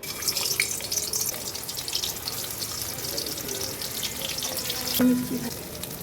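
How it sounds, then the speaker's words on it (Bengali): Stuffed pointed gourd (potol) frying in hot oil, one piece at a time: a steady, moderate crackling sizzle runs throughout, with a few sharper pops and a faint tone near the end. "এবার আমি ভাজবো এক এক করে"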